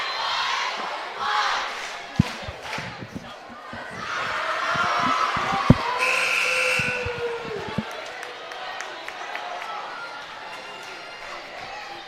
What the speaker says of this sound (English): the cheer from both schools was so loud that's echoing.